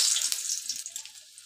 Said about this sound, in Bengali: এবার আমি আলুগুলোকে তেলে ভেজে নেব